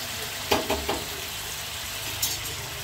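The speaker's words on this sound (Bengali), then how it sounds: "আদা দেওয়ার পর ভালো করে নাড়তে হবে।" Mutton with onions and ginger stirred and frying in a pot over a wood-fired clay stove, steady sizzling broken by a few sharp scraping stirs near the start and again later.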